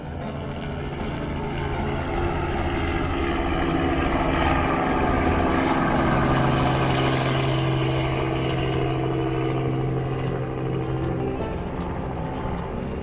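A low, steady engine drone of a tour helicopter passes overhead by a riverfront in St. Louis, swelling louder in the middle before easing, with faint background noise beneath.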